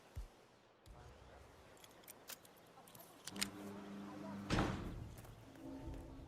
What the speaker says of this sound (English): lockpick the garage door to get access